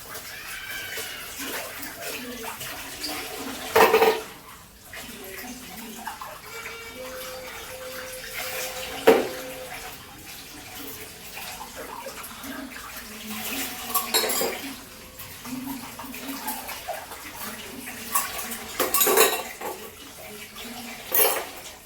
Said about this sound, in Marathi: पटापट भांडे घासून घेते मी.